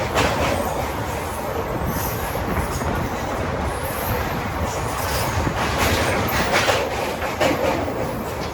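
The Krishna Express (17406) rushes through Krishna Canal Road junction without stopping, heard from on board: a loud, steady rumble of rolling wheels with rhythmic clickety-clack and high squeals from the rails and wheels.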